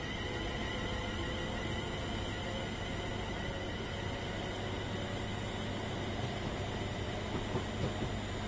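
A train rumbles along steadily in Train Sim World 5, a constant loud roll of wheels and motor on rails with faint rhythmic clicking and no talk.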